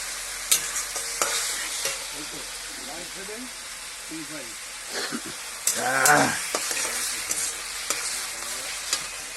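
Fish masala is fried and stirred in a pan, giving a quiet continuous sizzle broken by repeated scraping spoon strokes and clinks, with a voice speaking intermittently over the cooking.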